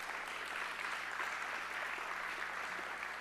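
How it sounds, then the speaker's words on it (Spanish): Steady applause from a church congregation praising the Lord, a continuous even wash of clapping that sounds faint and distant throughout. "Y dale un aplauso fuerte al Señor ahí donde estás."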